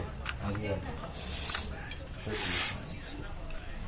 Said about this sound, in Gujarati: આ ઘીનું ડબલું જો હજી ખુલે છે.